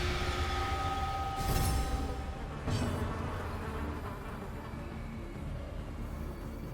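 A giant mosquito enemy in a video game buzzes loudly and continuously, a droning insect whine with a couple of sharp swells as it passes close, no voices over it.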